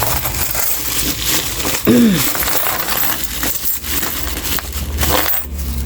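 Coins from a sari-sari store's change are handled and counted, giving a steady stream of close metallic clinks and rattles with a brief sharper jingle near the middle.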